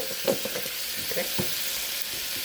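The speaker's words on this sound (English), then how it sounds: "Now we'll just saute it a little bit." Lo mein with oyster sauce, Shaoxing wine and white pepper sautéing in a wok, a close steady sizzle with quick tossing and scraping sounds over a couple of seconds.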